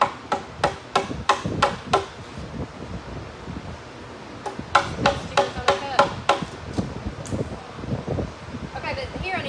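Steady hammer strikes on wood, two runs of rapid evenly spaced blows, close and loud with a little background rustle.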